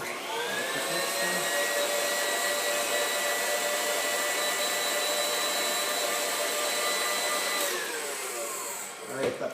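An electric hand mixer beats cookie batter for chewy nutty cookie squares, a steady close whirring drone that runs for most of the span before winding down near the end.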